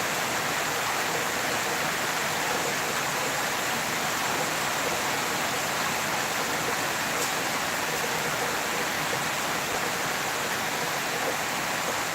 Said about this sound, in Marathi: गेल्या अर्धा तासापासून असा संततधार पाऊस पडत आहे